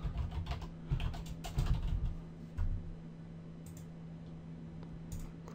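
Typing on a computer keyboard to enter a workspace name in the Eclipse IDE: quick bursts of close keystrokes over the first few seconds, then sparse clicks over a steady low hum.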